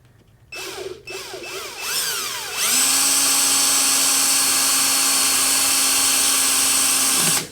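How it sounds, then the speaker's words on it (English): A small power drill whirs in short bursts while drilling a pilot hole with a small bit, then spins up to a steady high whine that holds for several seconds before stopping, close and loud. "So what I do is I use a smaller drill bit"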